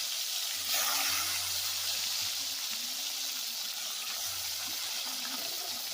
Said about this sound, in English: I'm gonna make it fry and get it on.